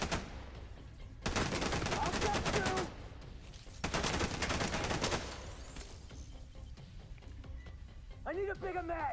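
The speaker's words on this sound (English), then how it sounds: "No, stop shooting." Gunfire in a video game, two long bursts of rapid automatic fire, close and loud, separated by a short pause, then scattered shots while a voice talks toward the end.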